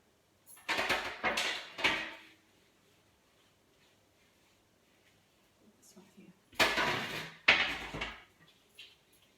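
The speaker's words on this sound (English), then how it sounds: "I'm going to now put it onto my baking tray" A pizza is set down onto a baking tray lined with a silicone barbecue mat, heard as two clusters of close knocks and clatters separated by quiet.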